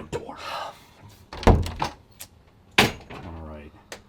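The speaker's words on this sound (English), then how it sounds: "Just open that damn door." A door is opened in a horror film, giving a couple of heavy knocking thunks and a creaking, rattling movement among muffled voices and shuffling.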